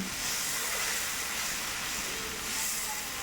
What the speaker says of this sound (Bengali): তেলের সাথে মশলাটা একটু ভালো করে কষিয়ে নিচ্ছি যাতে আদার কাঁচা গন্ধটা না আসে